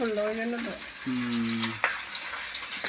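Fish fries in hot oil with a constant close sizzle, punctuated by a few sharp spatters and pops, while brief voiced tones surface faintly in the first half.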